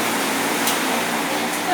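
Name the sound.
electric fan running in room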